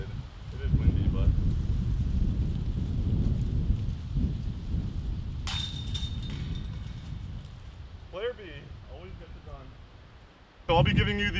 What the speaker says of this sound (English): The wind decided to pick back up.